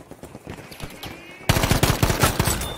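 Bursts of M2 Carbine fire in Battlefield 5, rapid cracking shots that jump much louder halfway through into a dense, sustained volley, no talking over it.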